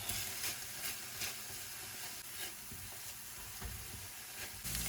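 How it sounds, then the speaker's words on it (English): Onions, ginger garlic paste and a little chili pepper sizzling steadily in a pan with pork, a close, continuous crackling fry with occasional stirring bursts. "the onions, ginger garlic paste, and a small amount of this chili pepper. I'm gonna fry that up."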